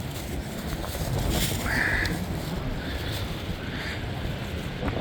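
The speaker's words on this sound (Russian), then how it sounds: "ветер сильный, прямо очень сильный" Strong storm wind buffets the microphone on a seashore, a steady heavy roar and rumble with the surf blended in, continuous and loud throughout, with faint higher whistles now and then.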